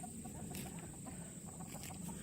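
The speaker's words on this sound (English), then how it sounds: "I heard somebody squawking over here." Farm chickens on a humid Virginia homestead squawk and cluck faintly in the distance over a steady background hum.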